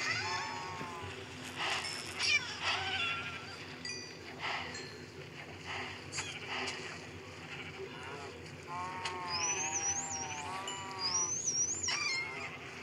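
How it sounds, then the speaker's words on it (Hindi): A cat in the Minecraft video game meows repeatedly, short high-pitched calls that recur across the stretch, alongside quieter game sounds and splashy water ambience. "गाइस ये फिश नहीं बिल्ली है।"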